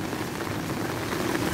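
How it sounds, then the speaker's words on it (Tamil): Heavy rain pours steadily onto a street in China, a dense continuous hiss with no breaks, close and fairly loud, with no voices. "காலையில் 6 மணிலேருந்து இந்த மழை பெஞ்சிட்ருக்கு"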